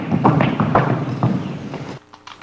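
A Colombian Criollo horse beats out a slow, short canter with close, rhythmic hoof thuds in repeating groups for about two seconds, then the sound drops away.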